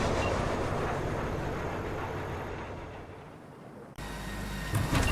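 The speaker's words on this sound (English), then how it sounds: "the train's leaving" A train in the video game Cyberpunk 2077 pulls away with a steady, loud rumbling roar that fades slightly before a sharp shift and a louder resumed rush, with no talking.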